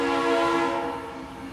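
A train horn sounding at a railway platform, one sustained, loud, harmonic blast that holds steady and then fades slightly toward the end, with no speech.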